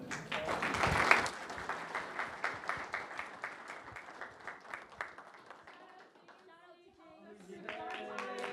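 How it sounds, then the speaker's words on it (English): Audience applause for a student group after its climate-policy presentation at a student congress, a loud burst of clapping that slowly thins out, followed near the end by a person speaking. "Let's give this group a round of applause."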